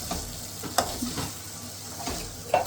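Chopped tomatoes and onions fry in a pan under a soft, continuous sizzle, with a few sharp clicks and scrapes as the mixture is stirred.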